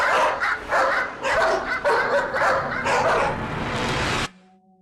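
Dogs bark in quick repeated bursts, some yipping and whimpering mixed in, loud and close, before the sound cuts off abruptly into a faint low hum.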